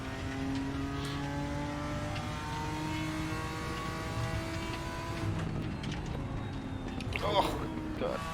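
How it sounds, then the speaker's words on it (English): GT4 race car in the RaceRoom racing game, its moderate engine drone holding steady with shifting revs and tire noise audible over it, continuous and close throughout with a brief louder burst near the end. "You can hear the tires more in the GT4 because the engine isn't so loud."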